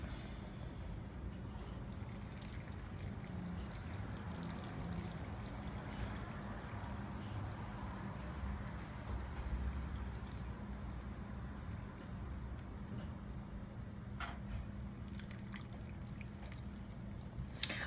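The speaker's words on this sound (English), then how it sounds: "I'm going to add the broth" Broth is poured into a pot of kimchi braised pork ribs, giving a soft, steady watery pour and trickle that runs quietly and continuously without any voices.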